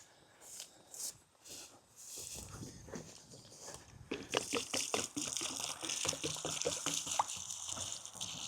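Water is poured onto a newly planted American persimmon tree, starting with a few footsteps and handling sounds before a steady close gush and splash of water that runs to the end.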